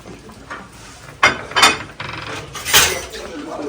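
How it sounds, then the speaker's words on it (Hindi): Dishes, pots and pans being washed, with several sharp metallic clanks and clinks at uneven intervals over a quiet background, close by. "सलमान भाई लगे हुए बर्तनों पे।"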